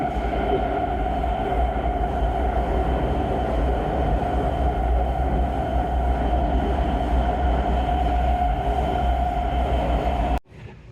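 A subway train rumbles loudly and steadily throughout in a near-empty station in Hangzhou, China, a dense mechanical roar that cuts off abruptly near the end.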